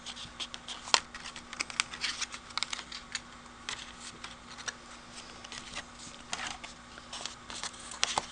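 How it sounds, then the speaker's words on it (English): Scissors snip cardstock along a fold line for a handmade card, a run of small, close, quiet crisp cuts and paper handling at an irregular pace, with no talking. "I'm going to just snip that off right along that fold line."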